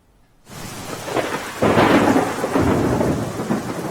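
Loud thunder rumbles in and rolls on over steady heavy rain hitting surfaces, with no voices.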